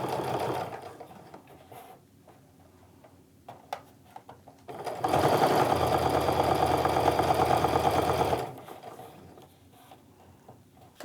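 Sewing machine top stitching along the edge of a fabric wristlet, a sustained rapid mechanical whir of several seconds between quieter stretches of fabric handling.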